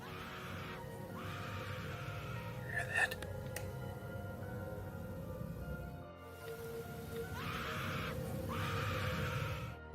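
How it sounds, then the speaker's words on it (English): A woman's distant screams carry across a campsite in two faint bursts, one near the start and one near the end, over steady low background noise. "Listen to the horrifying screams of a woman screaming in the distance of this campsite."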